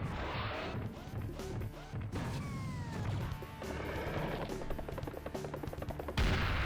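Double-barrel shotgun blasts in a shooter game hit as several hard, crashing bangs spaced across the span, each a loud broadband impact over busy in-game background noise.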